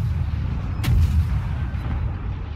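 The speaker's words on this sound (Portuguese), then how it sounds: "Canhão atrás de canhão." In the World of Warships naval battle game, a warship's cannon fires one sharp, booming shot that rises out of a steady low engine rumble, heard near and loud with no talking.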